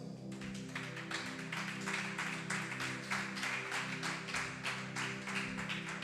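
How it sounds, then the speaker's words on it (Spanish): A congregation at a Sunday church service claps in a steady, rhythmic beat over sustained music, the clapping faint and distant throughout. "Denle un aplauso al Señor."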